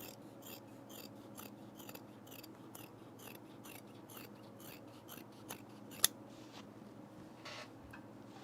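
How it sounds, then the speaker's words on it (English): Scissors trimming the edge of blazer fabric, a quiet run of rhythmic snips repeating about every half second, close up, with one sharper click near the end. "I'm going to trim this edge a little bit."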